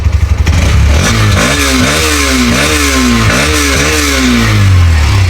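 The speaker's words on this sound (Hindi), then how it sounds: "जब एक्सट्रीम 125R की साउंड सुनेंगे, ये देखो, ये इसका बेस है। अभी रैप करेंगे" A Hero Xtreme 125R motorcycle engine revs repeatedly from idle, rising and falling in several close, loud blips with a mechanical clatter underneath, no talking.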